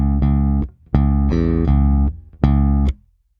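A bass guitar plays a riff, three sustained low notes with short gaps between them, played alone and clearly.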